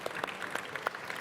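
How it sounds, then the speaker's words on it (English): Scattered audience applause at an EGX 2019 theatre stage event, a thin patter of a few separate claps, faint and distant, with no talking over it. "let's give him a round of applause"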